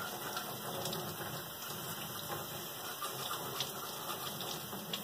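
Cold water runs steadily from a tap into a sink, a constant hiss and splash at low volume with no voices.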